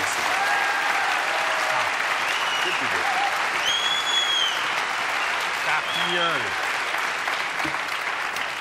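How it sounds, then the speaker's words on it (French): A studio audience on a French TV show applauds Alex Métayer, a steady, dense roll of clapping throughout, with a few voices calling out over it. "Applaudissements pour Alex Métayer"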